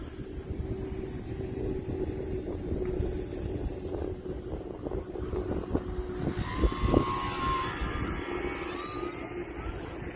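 An E-flite T-28 RC model airplane flies overhead outdoors, its electric motor a steady droning whine with some wind buffeting, swelling a little louder toward the end as it passes.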